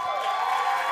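Church congregation applauding and cheering together, a steady dense wash of clapping from a crowd that fills the room at even loudness without a break.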